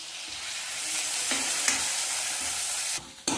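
Onions frying in hot oil with dried red chillies and mustard seeds, a steady close sizzle with scraping stirs, then a brief pause and a short burst of sizzling again at the end.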